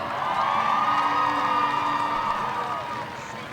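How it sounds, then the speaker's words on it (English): A crowd in the stands at a high school football homecoming applauds and cheers for a crowned couple, a broad wash of clapping and whoops that holds steady, then fades slightly at the end. "please give a round of applause for Garrett Newman and Olivia McDowell"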